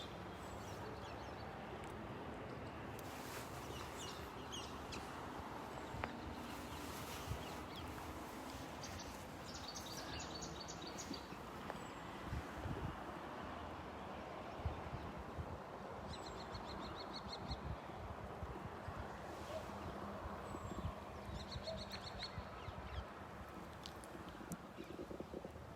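Birds calling outdoors, faint goose-like honks repeating in short bursts high above a constant windy outdoor hiss, the calls distant and intermittent through a long steady stretch.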